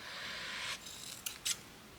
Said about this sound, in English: Let's cut these off so they look tidier.